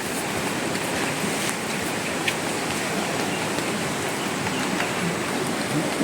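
Steady rain hisses continuously on a campsite tarpaulin, a dense even wash of falling water with occasional sharper drops, fairly close and constant throughout.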